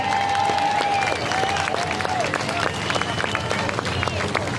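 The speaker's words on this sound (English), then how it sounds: "give them a clap, please" A crowd at a rally outside Parliament House in Melbourne claps for the police, continuous applause mixed with cheering and crowd babble, with voices heard over it.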